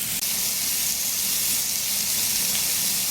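Steak for cheesesteaks cooking on a griddle over low-medium heat, a continuous close hiss of sizzling fat and steam with no breaks or voices.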